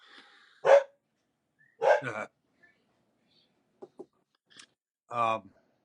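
A dog barks in short, separate bursts, a few loud yelps spaced apart with quieter clipped sounds between them, close by and in an otherwise quiet room.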